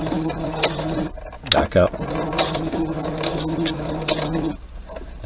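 A sewing machine stitches forward through a thick, layered thumb hole cuff, with a steady mechanical chatter and clicking run broken by short pauses, as a voice speaks briefly over it.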